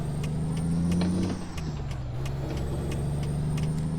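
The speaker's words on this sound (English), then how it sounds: "we're gonna enjoy the sounds of the truck for a little while" A Freightliner Argosy truck in American Truck Simulator drones with a steady, close engine hum. The hum dips briefly as the gear or throttle shifts, then settles back into an even cruise, and no one speaks.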